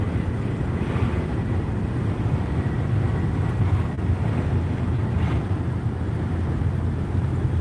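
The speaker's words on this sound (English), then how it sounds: "Windy today." Strong wind rumbles continuously against the microphone on a drive west of Oxford, Mississippi, a dense low roar that stays steady throughout with no speech.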